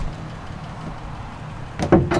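A car door swings shut against its built-in door bumper, giving two quick sharp knocks near the end after a quiet background hum.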